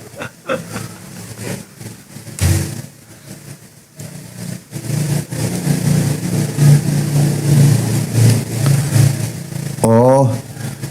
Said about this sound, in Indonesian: kalau ada motor lewat, dia jadi noise